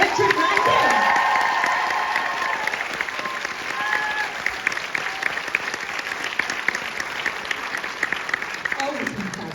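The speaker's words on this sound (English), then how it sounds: "Can we please have a big round of applause for Lauren Lyle," Sustained audience applause with some cheering fills a convention panel room as the Outlander stars Lauren Lyle, John Bell and Richard Rankin are welcomed. The clapping swells loudly at first, then settles into a steady, slightly fading roar.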